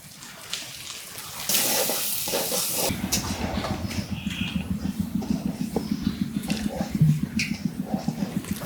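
Onion and garlic paste frying in a pan, a loud burst of sizzle and steam that settles into a steady bubbling crackle with a rapid, rhythmic spattering texture, close by.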